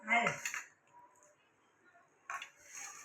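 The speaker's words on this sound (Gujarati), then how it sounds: "દીદીને તો તપેલી આખી ધરી દીધી" A metal cooking pot is handled in a home kitchen, giving two short bursts of clinks and clatter, one at the start and one near the end, close to the microphone, with quiet gaps and faint voices in between.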